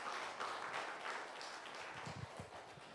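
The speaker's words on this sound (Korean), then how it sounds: "이때를 위해서 박수 한번" A gathering at a pastors' academy meeting gives faint, distant-sounding applause. Steady clapping fills the whole stretch, with a few soft thumps near the end.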